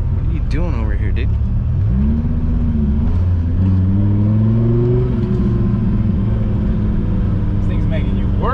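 A 1999 Hennessey Viper ACR engine drones loudly while driving, its pitch climbing and settling as the car accelerates, with people talking over it throughout.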